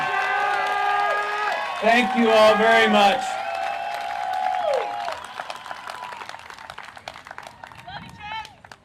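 A crowd at a March for Democracy rally in Waco applauds and cheers while a speaker thanks them over a microphone. Clapping runs under the voice and thins to scattered claps near the end.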